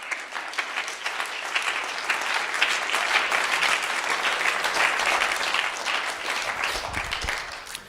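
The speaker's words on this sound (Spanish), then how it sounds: "Fuerte el aplauso." A church congregation claps in sustained, dense applause at a preacher's sermon, steady and moderately loud across the whole stretch, with no voices over it.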